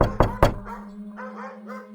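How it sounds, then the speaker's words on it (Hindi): Three sharp, loud knocks land in quick succession on the main door of a house at night, followed by a low sustained hum and faint murmuring tones as the knocking stops. "3 बार दस्तक हुई।"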